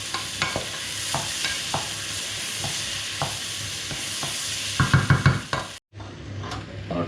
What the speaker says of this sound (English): Set that down to simmer now